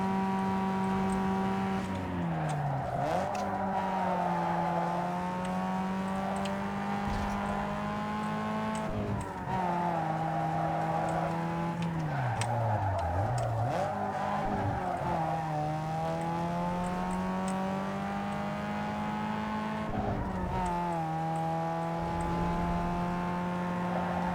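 Street race cars in Need for Speed Underground 2 roar continuously in a video game race, engines revving up and down through gear shifts with a loud, steady, up-close drone and no talking.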